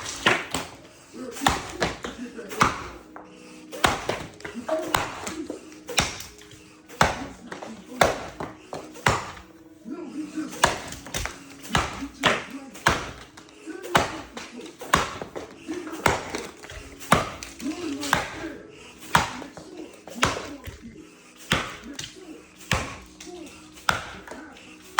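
A knot cutter snips through rough walnut branches with sharp, crisp clicks repeating roughly every second in a steady working rhythm, close by, with a voice talking in between the cuts.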